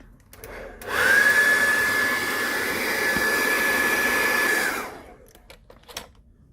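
A heat gun blowing hot air onto a Samsung Note 9 screen to loosen it, switching on after a moment of quiet into a loud steady blowing roar with a thin whine, then cutting off and fading away.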